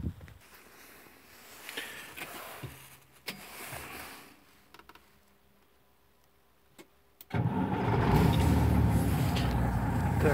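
A truck on air-suspended axles and cab gets a cranking attempt and a hiss of air, and then the diesel engine catches and settles into a loud, steady running roar.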